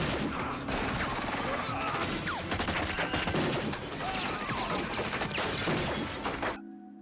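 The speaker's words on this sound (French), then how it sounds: "Une pluie de balles s'abat alors sur lui, mais il ne recule pas d'un pas." Heavy gunfire from a Robocop film scene, dense rapid bursts with crashing impacts and ricochets, loud and continuous for several seconds before cutting off abruptly.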